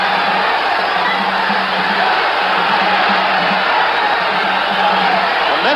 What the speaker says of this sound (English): The crowd picks up